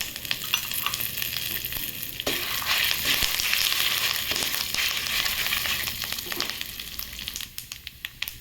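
Dried red chillies and curry leaves frying in hot oil for a black gram chutney, a close, continuous crackling sizzle with stirring scrapes, loudest midway and easing toward the end.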